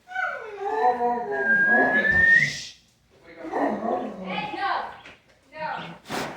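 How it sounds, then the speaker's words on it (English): A pet dog whines and vocalizes insistently at the table while people eat, a long rising yelp-like howl followed by shorter bursts, loud and close, with people talking around it. "my dog thinks he's human, and every time we eat, he has to eat with us and what we're eating"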